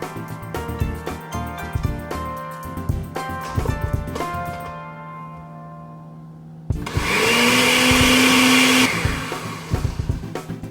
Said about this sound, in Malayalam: ഞാനിവിടെ മിക്സിയിലാണ് അടിക്കുന്നത്.